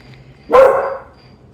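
A pet dog being coaxed to give a soft "whisper bark" lets out one loud, close bark, a single sharp burst that trails off quickly, with no voices.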